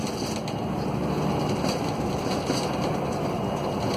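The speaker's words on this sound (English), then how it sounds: "I'm accelerating again" A car accelerates out of a left-hand bend as the road opens up, a steady broadband engine and road rumble holding at a constant level throughout, recorded from inside the cabin with no talking.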